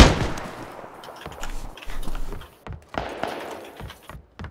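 Pistol gunfire in the battle royale game PUBG: several sharp, close shots in an uneven series, with bursts of ringing noise trailing between them.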